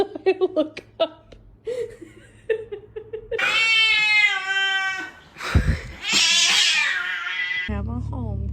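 A kitten meows angrily in a long, drawn-out, rising and falling caterwaul, loud and close, after a few short cat sounds, with a person's brief chuckle and murmur in between.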